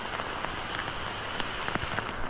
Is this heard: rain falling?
yes